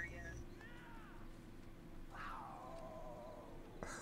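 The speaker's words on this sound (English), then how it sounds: "it's a cougar nearby" A cougar emote call in Red Dead Redemption 2 sounds as a couple of rising, wavering feline yowls, moderately loud over background game noise and people talking.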